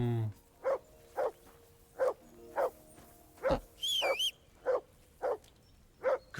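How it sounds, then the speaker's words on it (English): Henry's dog barks repeatedly in Kingdom Come: Deliverance II, about ten sharp, regularly spaced barks close up, with a brief high whistle-like sound in the middle of the sequence. "That barking was a pain in the ass."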